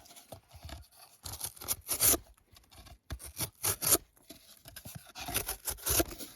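Grand Way 027 UB knife slicing through cardboard up close, a series of short rasping, scraping cuts in irregular bursts with brief pauses between strokes.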